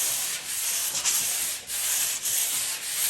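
A French polishing pad is rubbed in straight lines over a wooden surface, producing a continuous harsh hissing rasp with a few brief dips between strokes, close and steady.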